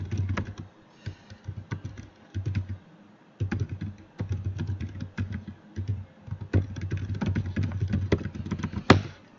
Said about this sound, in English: sorry if the keyboard gets loud on this computer